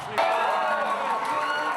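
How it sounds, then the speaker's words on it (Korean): Pub crowd of football supporters erupting in cheers at their goalkeeper's save, a sudden loud burst of many voices that holds as a steady roar. "우리 팀 골키퍼의 기막힌 선방엔 함께 환호하고"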